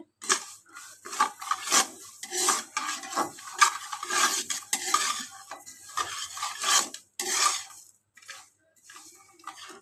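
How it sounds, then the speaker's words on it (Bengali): Lentils being dry-fried in a wok are stirred with a utensil, giving repeated scraping and rasping strokes in an uneven rhythm, close and moderately quiet, with no talk. "ডালটাকে আমি দেখো দিয়ে দিয়েছি কড়াইতে একটু ভাজা করতে"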